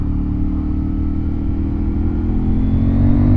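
KTM 890 Duke motorcycle engine, steady and loud with a low rumbling drone that builds slightly toward the end, heard alone without talk.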